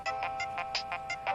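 A mobile phone rings with an incoming call, giving a rapid, pulsing electronic ringtone of about eight evenly spaced beeps. It is moderately loud and plays alone without talk.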